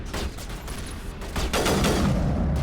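Gunfire from a sniper rifle in Mass Effect Legendary Edition, with several sharp reports over continuous game noise, the last stretch louder and denser, no talking.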